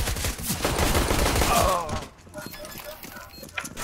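Gunfire in a first-person shooter game, a dense burst of rapid shots filling the first two seconds, then quieter scattered game sounds with someone talking over the action.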